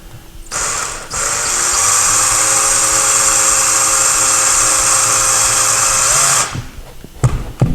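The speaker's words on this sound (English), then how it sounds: "we're going to drill a very small hole to make sure that we hit a beam right here" A power drill boring a small pilot hole into a wall whines steadily for several seconds at high pitch, close and loud, starting and stopping abruptly, with a brief rattle afterward.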